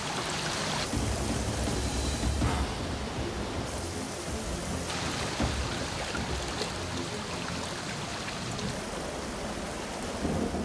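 Rain falls on fire-burned hills in a storm, producing a dense, continuous broadband wash that stays loud and unbroken for about ten seconds, with no voices.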